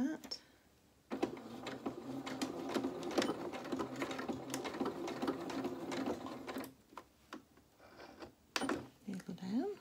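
A domestic sewing machine runs a straight stitch along a quarter-inch dressmaking seam, whirring in bursts with brief pauses and a few clicks at the end, while a voice speaks in between.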